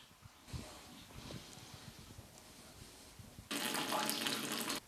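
Mineral water running from a tap at a pump room in Skhidnytsia, a steady splashing flow under faint background noise that grows louder and fuller in the final second and a half.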